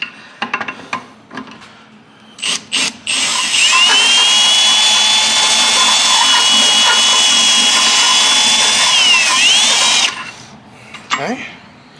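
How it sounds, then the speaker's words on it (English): A power tool runs a reamer through a hole in a front end suspension part, with a steady high whine of about six seconds that bends in pitch just before stopping. Short bursts of workshop clatter come before and after. "Let me run that reamer through one more time."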